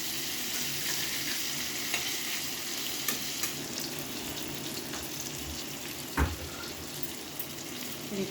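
Pointed gourd frying in a pan over a medium gas flame, giving a steady soft sizzle with occasional stirring scrapes and light knocks, close and fairly quiet, with no talk.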